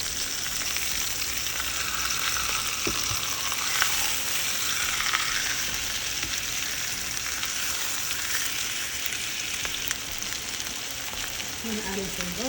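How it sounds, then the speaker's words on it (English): Coconut oil sizzles in a pan heated at medium high, a steady broadband frying hiss holding evenly throughout with no talking. "To my pan, I'm adding some coconut oil."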